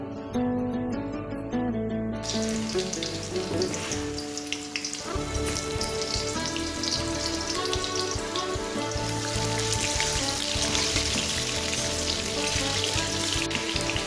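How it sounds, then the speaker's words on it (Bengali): Potatoes seasoned with salt and turmeric fry in oil in a pan, a steady, busy sizzle and crackle that holds throughout, with occasional stirring clinks and no talking. "দেওয়ার পরে আলুটা ভেজে তুলে নেবো"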